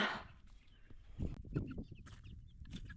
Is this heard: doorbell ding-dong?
no